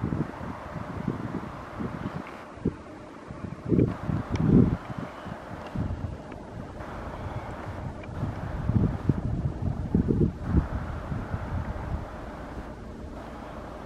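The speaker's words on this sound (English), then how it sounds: "too windy." Outdoor wind at sunset in Portugal buffets the microphone in irregular low gusts and rumbles, swelling and easing over a constant rushing background.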